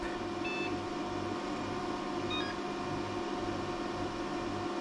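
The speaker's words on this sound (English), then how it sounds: "Beep." An arcade machine's PC-based hardware booting up, giving short faint electronic beeps over a steady hum of fans and electrical noise from a busy arcade club.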